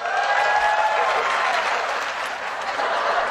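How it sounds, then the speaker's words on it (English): An audience claps steadily throughout, a dense, even wash of applause from a crowd, loud and continuous with no talking over it. "Wow, that's clapping a lot."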